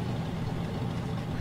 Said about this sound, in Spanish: Cómo me gusta ese tractor